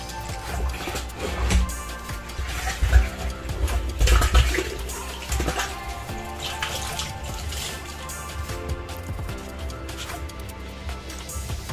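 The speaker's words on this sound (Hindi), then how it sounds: "तो दोस्तों इसमें भर के पानी डाल देते हैं।" Water gushes and splashes into a washing machine tub filled with construction masala, a continuous sloshing pour with a few louder surges, close and with no talk over it.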